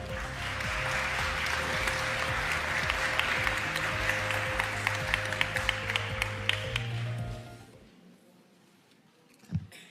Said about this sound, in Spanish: a quien pido un fuerte voto de aplauso.